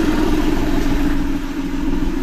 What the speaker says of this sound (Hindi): देखिए इंजन स्टार्ट है, पुली घूम रहा है